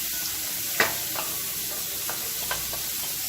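Cooked lentils and legumes for sundal being stirred in a pan, a low sizzling bed broken by a few sharp scraping knocks of the spoon, close and without speech.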